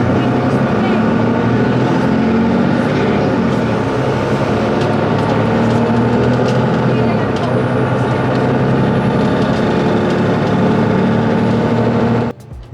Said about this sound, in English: just listen to this diesel